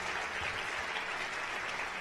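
A congregation at a pastors' retreat applauds, a brief, steady wash of distant clapping at low volume.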